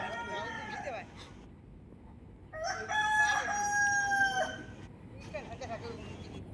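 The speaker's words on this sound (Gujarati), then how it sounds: "સરસ માના કુકડા બોલી રહ્યા." Roosters crow at a Bahuchar Mata temple, one long clear cock-a-doodle-doo in the middle, with other fowl calls and murmuring voices around it.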